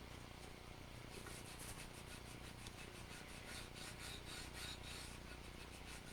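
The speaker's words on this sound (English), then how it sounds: "I'm just rubbing the top where it kind of got on the top a little bit, blending that in." Cloth rubbing wood finish into the edge of a wooden wall shelf, a faint, steady scratchy rasp with rhythmic strokes repeating throughout, no voices.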